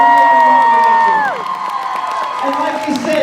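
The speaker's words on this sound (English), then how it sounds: "Please, guys, give me a huge round of applause." A comic convention audience at a Twilight panel cheers and whoops over an opening sustained whistle-like tone, followed by a busy crowd roar with scattered clapping and shouting voices.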